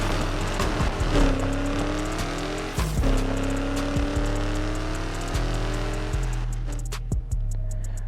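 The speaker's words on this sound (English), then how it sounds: "representing the Ford is the 1990 Mustang Foxbody" A 1990 Ford Mustang Foxbody in NFS Unbound, its V8 engine droning steadily with repeated gear-shift drops in pitch and brief tire squeals, loud and close throughout.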